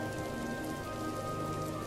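Rain pours down as a story sound effect on a cold winter day near a village and forest, a loud, continuous, even hiss of falling water with no speech over it.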